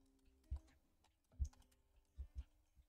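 Keys on a computer keyboard are tapped as a command is typed, giving a handful of soft, irregular clicks in small bursts against a quiet room.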